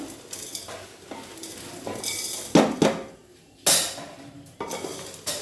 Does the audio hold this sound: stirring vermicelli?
yes